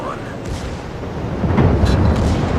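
Battleship main guns in World of Warships fire shells, with deep booming rumbles and a heavier burst toward the end of a short stretch, under a dense low roar.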